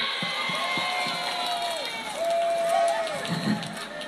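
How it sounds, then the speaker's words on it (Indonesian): Children clap and cheer at a religious gathering, a lively crowd of young voices shouting over scattered claps that swell midway. "tepuk tangan anak-anak"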